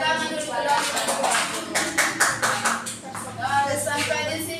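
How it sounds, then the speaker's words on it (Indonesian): A classroom full of students claps for the student group that has just finished presenting, a burst of scattered applause mixed with voices chattering underneath. "Kasih tepuk tangan dulu kelompok"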